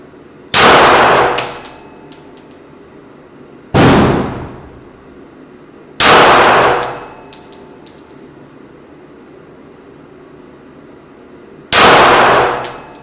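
Four loud pistol shots from a gun with an Aimpoint Acro P-2 red dot sight, each ringing as a sharp metallic clang off a steel cowboy target, spaced a few seconds apart outdoors.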